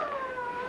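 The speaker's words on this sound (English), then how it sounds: "You can hear the dogs in the background." Dogs whine and howl for food in the background, a drawn-out, slightly wavering tonal cry heard briefly and at moderate level without any talking.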